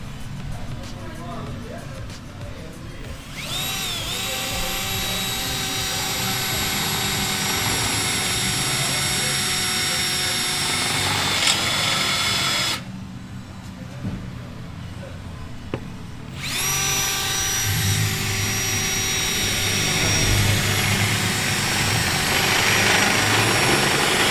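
A step drill bit whines at high pitch in long runs, drilling close by into an exhaust pipe, stopping briefly in the middle before starting up again.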